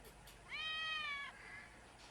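A single clear cat meow, close and moderately loud and lasting under a second, over a low background hum.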